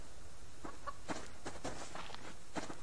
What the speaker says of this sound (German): Hab einen Huhn gehört.